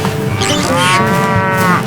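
A cow gives a single drawn-out moo on a farm, loud and close, with a steady tone that swells and fades over under two seconds.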